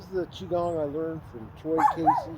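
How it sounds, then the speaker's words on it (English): Chihuahua yipping and barking at a dog park, short high bursts mixed in with someone talking over them close up. "You can hear the chihuahua in the background"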